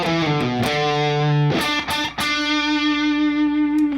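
Distorted electric guitar plays a riff, with a few picked notes sliding down into a long sustained bend, then several quick muted strums and a ringing held note, loud and close with no talking.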